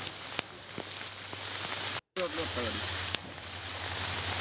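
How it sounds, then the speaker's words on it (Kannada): Torrential rain falling in the Western Ghats region, a steady dense hiss of downpour with scattered sharper drops, continuous throughout with a brief cut, while a voice talks over it. "ಪಶ್ಚಿಮ ಘಟ್ಟ ಪ್ರದೇಶದಲ್ಲೂ ಕೂಡ ಧಾರಾಕಾರ ಮಳೆ"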